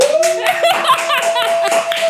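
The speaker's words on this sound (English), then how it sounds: "Some to the studio audience, some to clap." A small studio audience claps, with scattered clapping and a few cheers, mixed with a sustained tone and some excited voices.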